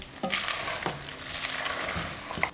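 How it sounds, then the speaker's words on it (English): Beef fries in its own rendered fat, making a dense, close hiss and sizzle with a couple of short scraping stirs, and no talking. "It's been fried off with the fat which has been rendered off the meat itself"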